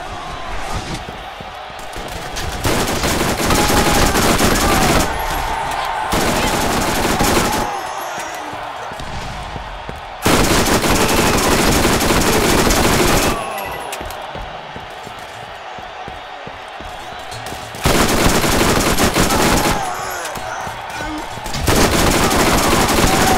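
Enemy gunfire in the Borderlands video game's Mad Moxxi's Underdome Riot arena, loud sustained bursts of rapid shots alternating with brief lulls, close and dense.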